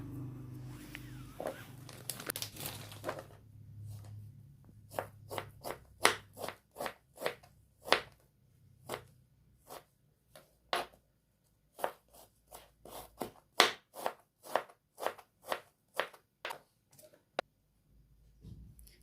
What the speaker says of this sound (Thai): เราก็จะมาหั่นไก่มังสวิรัตนะคะ